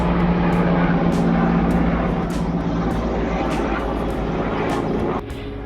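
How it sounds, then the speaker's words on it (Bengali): A helicopter passes overhead with a steady, broad rotor and engine drone that holds for several seconds before cutting off abruptly, with faint voices in the background. "এই যে হেলিকপ্টার যাচ্ছে"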